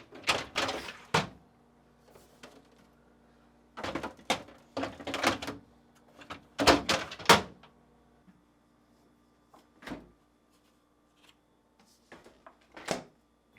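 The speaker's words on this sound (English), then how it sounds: "reinstall the drawers by aligning and pushing back into place" Drawers of a GE refrigerator's deli pan section are aligned and pushed back into place, giving a series of sharp plastic clacks and sliding knocks in bursts, with quiet gaps between them.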